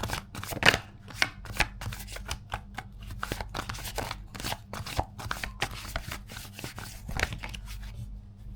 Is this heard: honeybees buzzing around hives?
no